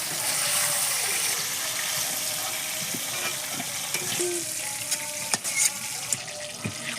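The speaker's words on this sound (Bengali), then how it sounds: "ফুলকপি ভাজা হয়ে গেছে" Cauliflower frying in oil in a pan, a steady soft sizzle up close with occasional clinks and stirring scrapes breaking through toward the end.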